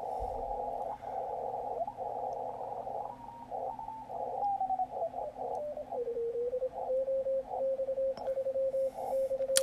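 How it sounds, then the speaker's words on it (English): CW Morse code signals come through on a Yaesu FTdx10 ham radio receiver: a steady keyed tone beeps in dots and dashes over band hiss, with the pitch sliding and settling as the dial is tuned. "So I've got the mode now set for CW, and I'm going to find some CW."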